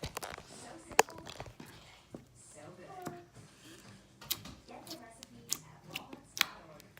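Glitter putty slime squished by hand for ASMR makes soft sticky clicks and sharp little pops scattered irregularly, up close and fairly quiet, with a voice talking between them.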